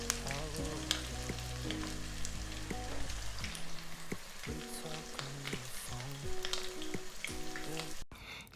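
Beer and vodka battered king prawns deep fry in oil with a continuous, even crackling sizzle, heard beneath a backing of music.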